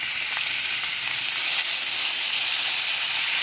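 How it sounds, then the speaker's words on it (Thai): Water splashes into catfish frying in a hot pan for a curry with pickled bamboo shoots, producing a loud, dense, unbroken sizzle up close. "จากนั้นเราก็เติมน้ำนิดหน่อยนะคะ เพื่อให้ปลาสุกไม่แห้ง"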